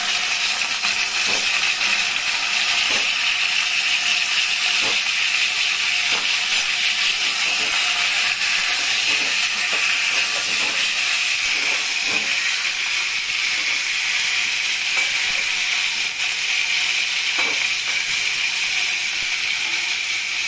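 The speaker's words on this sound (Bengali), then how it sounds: "গরম হয়ে গেছে, এখন পটলটা আমি ছেড়ে দিই।" Pointed gourd dropped into a little hot oil in a pan for a Bengali dahi potol dish sizzles with a loud, steady frying hiss, dotted with faint pops and crackles throughout.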